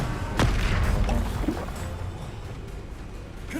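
A Bombarda spell explosion in Hogwarts Legacy, a sharp blast followed by a rumbling, decaying roar and a few smaller impacts, with no talking.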